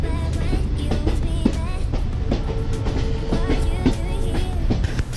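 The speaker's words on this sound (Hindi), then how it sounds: "ओके तो फाइनली ट्रेन आ चुकी है और ट्रेन के अंदर एंटर कर रहा हूँ" A passenger train in India bound for Goa rumbles and clatters steadily, with rhythmic wheel clicks and metallic squeals over a constant low roar, heard close from on board without talking.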